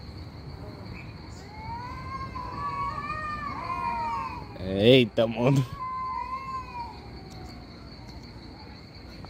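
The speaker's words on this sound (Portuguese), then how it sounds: "Aí, gato que briga, viu?" Cats caterwauling and yowling in a drawn-out, wavering fight, with a sudden burst of louder screeching and scuffling midway, while people talk and laugh nearby over a steady insect-like hum.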